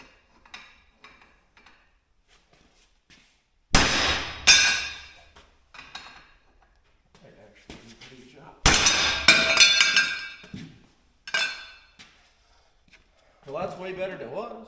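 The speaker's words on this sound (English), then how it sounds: "But we could just try a big old hammer." Several heavy blows from a big hammer ring out on a metal aircraft landing gear base, two loud clusters of sharp metallic clanks with ringing tails, separated by quieter handling noises and a few lighter taps.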